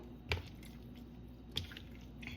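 Raw octopus is washed and kneaded with salt by hand, giving two soft, brief, wet squelches against a quiet background, with no talk.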